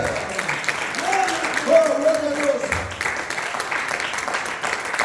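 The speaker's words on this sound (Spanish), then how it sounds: "Y se merece un aplauso." A church congregation applauds in a soft, steady patter beneath a voice speaking and praising over it, the clapping staying in the background throughout.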